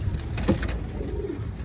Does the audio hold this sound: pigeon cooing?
yes